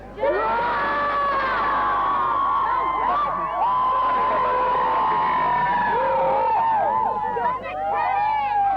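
A big crowd at Cardinia Park, Geelong cheers and shouts, with high excited voices and whoops rising over a steady roar of babble throughout.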